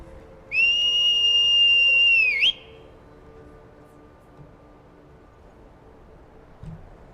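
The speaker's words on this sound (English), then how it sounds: "Where's my horse whistle?" A horse whistle in the Skyrim video game sounds as one sustained, clear, high tone lasting about two seconds and then sliding off, followed by quiet ambience.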